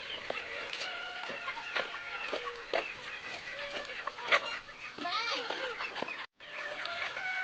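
A flock of chickens clucks and squawks nearby while feeding on crushed maize in a lively, uneven chatter, cutting out for a moment near the end before resuming.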